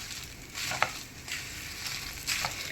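Dry red chillies and lentils roast in a pan for a spicy flax seed powder: a soft, continuous sizzle with a few faint stirring scrapes, fairly quiet and without speech.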